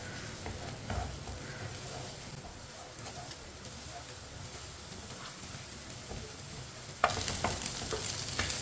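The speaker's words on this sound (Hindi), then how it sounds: "अंडे को इसी तरह मिक्स करके पका लेंगे।" Eggs being mixed and fried in a pan for Chinese rice give a faint, steady sizzle with soft stirring scrapes, growing louder near the end.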